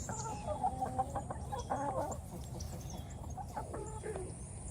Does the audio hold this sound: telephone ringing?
no